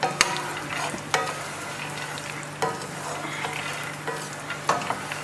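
Raw peanuts being pan roasted: a steady dry sizzle with repeated scraping stirs and occasional sharp clicks of the utensil against the pan, close and continuous with no talking.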